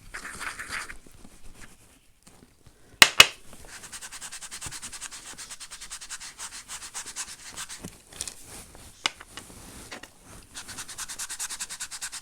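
Silver polish is rubbed by hand onto souvenir coins, giving soft, steady scrubbing strokes, close and quiet, broken by a couple of sharp knocks early on.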